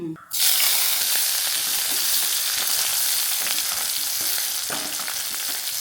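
Green chili and onion sizzle hard in hot oil with popping mustard seeds, a loud, steady frying hiss that bursts in right after a brief soft start and holds for several seconds, with scattered crackles and faint stirring.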